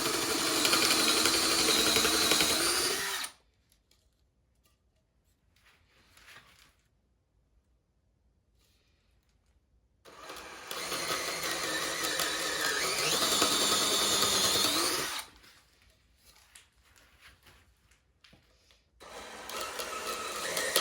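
Drill countersinking holes in wood for a van bed build, heard as two long close whining bursts of several seconds each, separated by near silence, with a third starting at the end.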